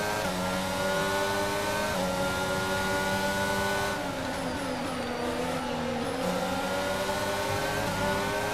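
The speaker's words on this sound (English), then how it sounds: "It's forming a train of cars here." Formula 1 cars in the F1 2022 video game race at Abu Dhabi, a steady whining engine drone with several layered tones from a pack of cars running close together, shifting pitch as they accelerate, with no talking.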